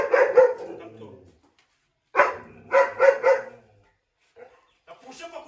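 A dog barking in bursts, two or three sharp barks close by, then a pause, then another volley of barks, with fainter yips and some voices toward the end.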